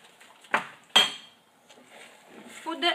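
A spoon stirs a cocoa chocolate mixture melting in a pot over low heat, giving a few sharp metallic clinks against the pot, with soft scraping between them.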